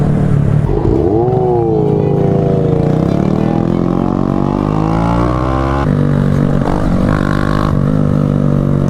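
A Honda Grom motorcycle being ridden makes a loud, close engine note that climbs and settles in pitch as the revs rise and hold, running continuously with no talking.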